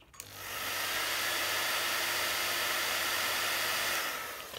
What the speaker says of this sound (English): again, I'm going to blast that with a hairdryer.